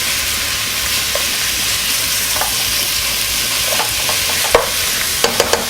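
Steak sears in a hot pan for a southwestern steak chili, a loud, dense sizzle that runs throughout with occasional scrapes and a few sharp clinks of a utensil toward the end.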